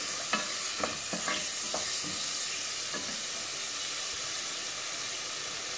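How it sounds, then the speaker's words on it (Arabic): Pieces of beef liver sauté in a hot pan over the fire with a steady, moderately loud sizzle, while a few soft stirring scrapes come in the first seconds and no one talks. "بنديها كده تشويحه على النار، ومحطراش الكبده كلها"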